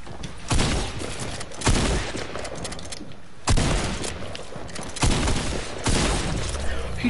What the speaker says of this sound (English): He just shot me through a wall.